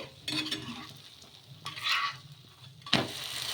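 Oiled dosa batter roasts on a hot pan with a soft steady sizzle, broken by a few scraping spatula strokes and a sharp clink near the end, close and without talk.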